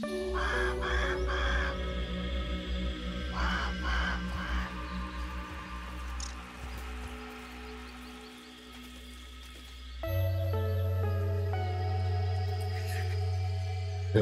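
A raven in the survival video game Grounded gives repeated harsh caws in short bursts over a layered game soundscape with a low musical drone, with no voices.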